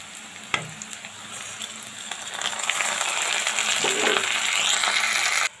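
Whole cinnamon, peppercorns and a clove hit hot oil in a pan: a sharp clack on entry, then a steady, loud sizzle that swells and stays bright until it cuts off abruptly.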